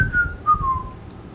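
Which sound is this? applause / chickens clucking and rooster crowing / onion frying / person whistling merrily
person whistling merrily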